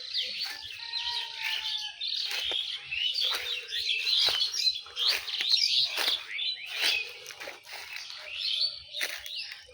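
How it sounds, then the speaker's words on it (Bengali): Many birds chirp and twitter densely at a small village pond beside thick jungle and a reed thicket, the calls overlapping in quick, bright bursts near and around the listener. "পাখির কি কিচিমিচি আওয়াজ দেখেছো?"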